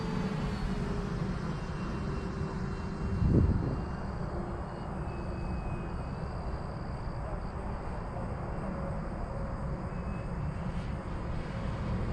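Steady engine drone of an FMS Corsair 1700mm V3 model airplane flying overhead, continuous and fairly loud, with a faint higher whine and a brief thump partway through.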